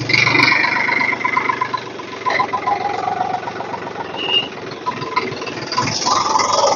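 A 2016 Sonalika 750 4x4 tractor with a cabin runs nearby, its engine giving a loud, continuous, steady drone with slight rises and falls throughout.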